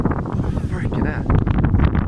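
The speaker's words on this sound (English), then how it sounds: "Very gusty winds." Very gusty outdoor winds rumble and buffet the microphone loudly, with trees rustling in the background. A voice can be heard talking under the continuous roar, which grows a bit stronger near the end.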